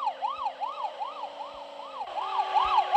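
In the 3D Driving Class game, a police siren wails in a rapid rising-and-falling pattern, steady and close, with a few faint low thumps beneath it.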